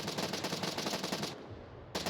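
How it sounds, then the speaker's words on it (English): Rapid automatic gunfire rattles in the VR shooter game Onward during a competitive Code North vs Bad Company match. The shots come as a fast, dense burst that breaks off briefly and then resumes, fairly quiet and without talk over it. "Lots of gunshots, though."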